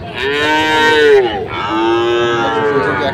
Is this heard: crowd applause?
no